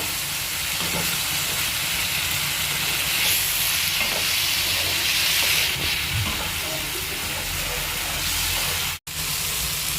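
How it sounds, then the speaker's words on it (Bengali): Spice paste for banana flower ghonto frying in a pan with a little water added and stirred, giving a steady, close, bright sizzle and hiss with faint scraping through the clip and one very brief dropout near the end. "এবার মা মশলাটা কষানোর জন্য দিয়ে দিচ্ছে সামান্য একটু জল। এবারে ভালোভাবে নেড়ে চেড়ে মশলাটা কষিয়ে নেবে।"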